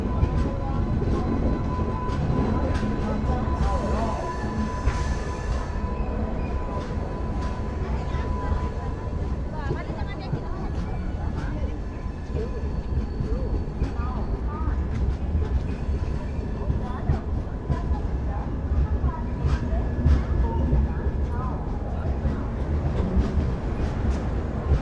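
The Sanghamitra Express rumbles and clatters through Vijayawada Junction railway station, a steady loud train roar lasting throughout with a person talking over it.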